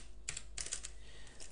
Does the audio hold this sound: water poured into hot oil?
no